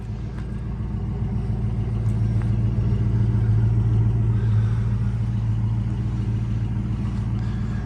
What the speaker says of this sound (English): Factory sounding exhaust.